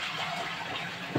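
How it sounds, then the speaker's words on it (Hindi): A rushing gush of water, steady and close, like a toilet flushing, with a brief louder splash at the end. "तो चलो अभी हम यहाँ पे फ्लश भी कर देंगे।"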